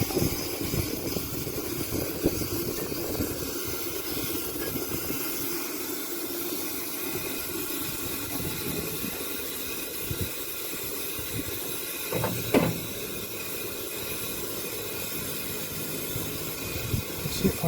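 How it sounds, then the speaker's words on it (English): A steam engine's blower sends steam hissing up through the chimney to draw the coal fire, a continuous loud rushing hiss heard close up with occasional brief bursts and no talking. "the sound now from the engine is the steam blowing through the chimney and causing the draft in the fire"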